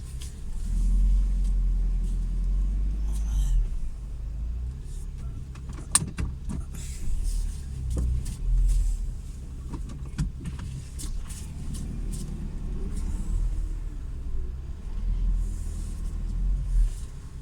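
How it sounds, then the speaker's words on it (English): A car's engine idles with a low steady rumble while the vehicle is turned around, with a few sharp knocks and clicks from the car body and doors scattered across the low drone and no talk. "I'll turn the car around."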